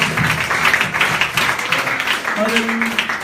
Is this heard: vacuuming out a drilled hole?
no